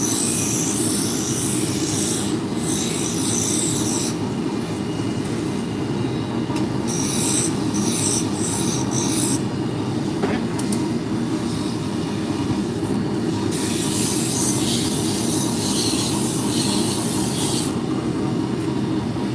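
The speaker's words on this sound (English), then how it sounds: "we're going to switch from the roughing gouge to a spindle gouge" Wood turning on a lathe, a spindle gouge shaping a drop spindle held in a four-jaw chuck: a steady, loud whirring rumble with scraping and hissing cutting noise throughout, no talk.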